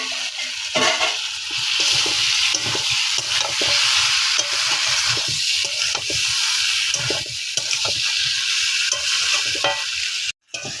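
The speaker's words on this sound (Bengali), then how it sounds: "দেখুন এই বাকি মশলাতে এবার আমরা আলু পটল একসঙ্গে দিয়ে দিচ্ছি।" Potato and pointed gourd fry in spices in a pan for a pointed gourd and prawn dish. A loud, continuous sizzle runs throughout with repeated scraping stir strokes and a brief break near the end.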